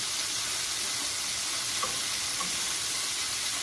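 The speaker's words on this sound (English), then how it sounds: "We're going to flip them so that the other side also gets seared nicely." Scallops sear in a hot pan after being flipped, giving a steady, even sizzle and hiss with faint pops, close and continuous with no voices.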